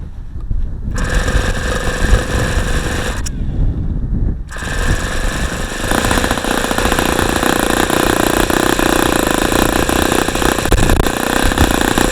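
An ASP FS65 four-stroke model airplane engine sputters briefly, dies, then catches and runs steadily at a loud, buzzing, high-revving pitch close to the microphone.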